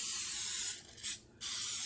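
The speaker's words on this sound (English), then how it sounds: "Hit it with that canola spray again." Canola oil cooking spray hisses onto a spatchcock chicken being smoked, a soft, close airy spray broken by a couple of brief pauses.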